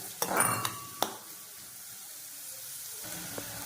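Onions sautéing for beef gravy: a few sharp spatula knocks and scrapes come early, then a soft, steady sizzle carries on quietly, with no voices.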